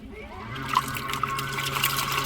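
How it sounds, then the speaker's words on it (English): Water sloshing and trickling as soap and bleach are spun together in a Morus Zero portable washing machine, a quiet steady liquid swirl with small drips and splashes, heard alone. "Before I add any more soap, I'm going to give it a little spin."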